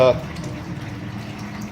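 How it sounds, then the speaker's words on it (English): Water drains steadily out of an aquaponics grow bed through a bell siphon, a continuous close gurgling rush of liquid with a faint voice briefly at the start. "this will actually pull all the water out of this grow bed"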